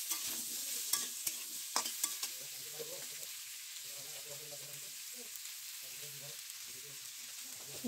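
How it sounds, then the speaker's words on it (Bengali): Potatoes and radish with salt and turmeric are stirred in a pan, with a few sharp spoon clicks at first followed by softer, steady scraping and a faint sizzle, close but quiet. "লবণ আর হলুদ দিয়ে ভালোভাবে নাড়াচাড়া করে তারপরে পরিমাণ মতন জল দিয়ে দেবো।"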